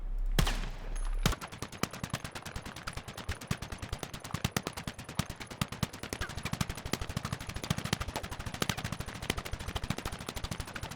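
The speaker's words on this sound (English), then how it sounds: "I'm going to fire a single shot at a time as I mentioned" Rapid rifle fire in Battlefield 6, fired from the hip at a wall. A long near-continuous string of loud, close, sharp shots with no voice over it.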